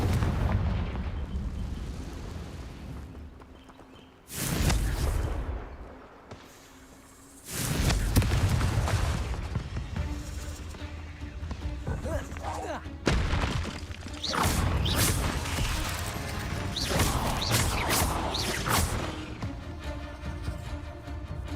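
Fiery Confringo spell blasts go off in the Hogwarts Legacy video game, a run of loud booming explosions broken by short gaps, with dense crackling rumble between the bursts.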